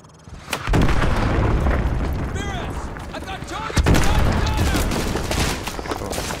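Call of Duty Modern Warfare 2 combat: a rocket launcher fires among heavy gunfire and booming explosions, loud and continuous, with a sharp blast near the start and another midway.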